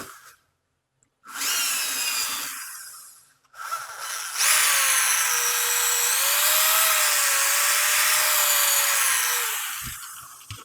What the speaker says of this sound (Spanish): Voy a usar el taladro y voy a hacer un agujero.